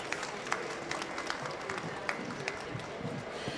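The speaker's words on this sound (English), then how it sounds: "Let's give a round of applause once again." Applause for panelists at a talk show on technology and nature, with scattered claps from a modest audience forming a light, uneven patter, and a voice talking over it.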